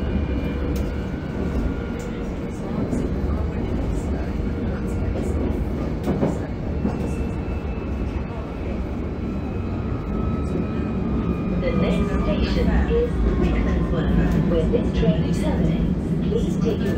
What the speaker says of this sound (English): We pass one of the Chiltern Railway's Class 165 Turbo DMUs, operating on a service from London Marylebone to Aylesbury Vale Parkway.